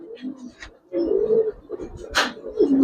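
Young Giribaz pigeons, a few semi-grown birds, coo in low, rolling murmurs that come and go across the moment, close by, with a brief higher burst of sound midway.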